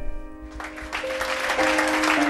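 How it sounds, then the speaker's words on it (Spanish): Fervent applause from a large literary audience in Paris after a reading, the clapping building from a thin start into a dense, steady ovation. "Fervientes aplausos de más de 250 de los literatos parisinos siguieron a cada sección leída esa noche"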